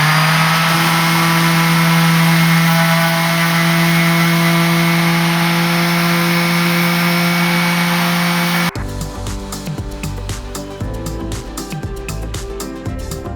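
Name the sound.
electric sander with 80 grit pad sanding wood trim edge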